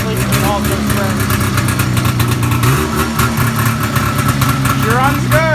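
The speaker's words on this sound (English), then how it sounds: "We got an exhaust leak in all those springs." Jaguar 340 engine idling with an exhaust leak, a steady loud rumble with a ticking, puffing edge and slight revs, running throughout while people talk nearby.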